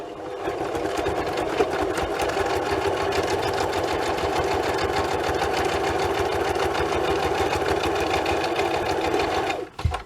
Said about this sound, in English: I'm just going to sew across the top of this